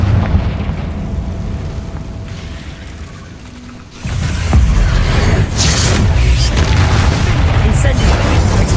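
A Confringo explosive spell bursts in Hogwarts Legacy, a sudden loud boom followed by dense rumbling blast noise and crackling debris that carries on steadily to the end, with game mechanisms and voices mixed underneath.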